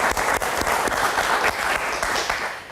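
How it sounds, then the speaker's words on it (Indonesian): Dense, sustained applause from a studio audience at a televised Jakarta talk-show debate, loud and continuous with no voices over it. "kita kasih tepuk tangan dulu dong"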